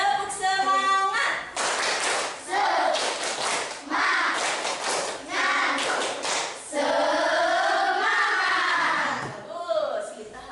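A class performs a rhythmic spirit clap in unison, with sharp grouped claps in a repeating pattern broken up by chanting children and a teacher's voice.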